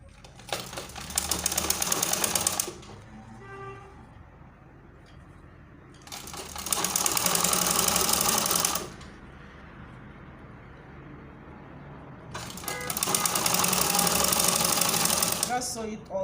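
A sewing machine stitches a curved Ankara fabric shirt collar in three long, loud, rapid bursts separated by pauses, close by and running alone between stops.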